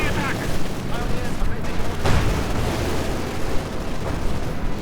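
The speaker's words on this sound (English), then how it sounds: "Shock troopers running into a torrent of German tank fire." Dense, continuous battle noise from a Company of Heroes 2 match: booming German tank fire and explosions roll throughout, loud and layered over constant gunfire, with no break in the din.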